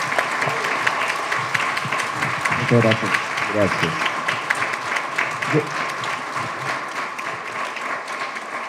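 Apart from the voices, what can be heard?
audience applause for the artists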